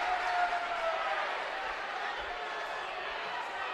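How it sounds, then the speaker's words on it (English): Steady crowd murmur filling a gym during a college wrestling match between Loras College and Wartburg College, a broad sustained hum with faint stirrings and a few low thumps, no one speaking over it. "Crowd's definitely starting to wake up."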